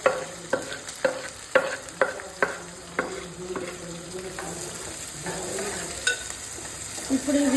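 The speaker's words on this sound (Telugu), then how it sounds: "ఇప్పుడు ఆయిల్ హీట్ ఎక్కింది కదా ఫ్రెండ్స్, అందుకని నేను చిల్లీస్ అండ్ ఆనియన్స్ వేసుకున్నాను" Chillies and onions sizzle in hot oil in a home kitchen, with repeated sharp clinks and scrapes of a stirring spoon over a steady fry; a voice speaks briefly.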